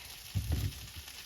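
Food sizzles in a hot pan of olive oil and butter, a steady close frying hiss with a few louder crackling spurts, no voices.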